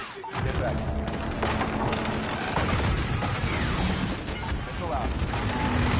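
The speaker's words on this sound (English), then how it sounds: "Garrett, put a hellfire on that building." Combat din from the video game Modern Warfare during a hellfire missile strike, with continuous loud gunfire, rumbling booms and radio voices talking over it.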